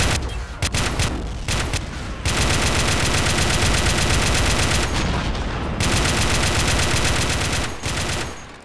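A turret machine gun in an Iraq War 2003 mod of a war video game fires long, loud sustained bursts of rapid automatic fire, broken by a few short pauses.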